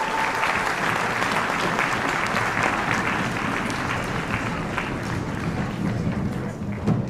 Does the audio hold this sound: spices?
no